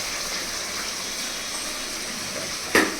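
Hot water poured into a pan of cooking armash fish curry in a home kitchen, a steady rushing gush that holds at an even level and ends in a brief louder splash.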